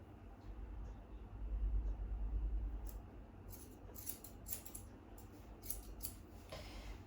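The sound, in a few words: scissors trimming dog fur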